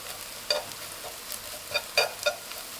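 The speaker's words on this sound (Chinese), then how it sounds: "翻炒一下。" Scrambled egg and dried small shrimp are stir-fried in a pan: a low sizzle with a few quick spatula scrapes and stirs, close and brief.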